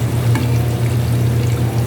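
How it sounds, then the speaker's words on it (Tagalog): Potatoes, carrots, eggplant and marinated chicken for maqluba fry in hot oil, giving a loud, dense, steady sizzle with a low hum underneath. "Piprito na natin yung mga ingredients ng ating makluba."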